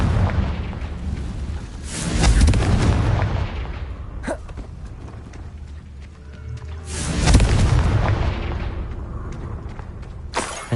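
Booming explosions from the Confringo spell in Hogwarts Legacy, two loud, rumbling blasts several seconds apart with crackling debris between them.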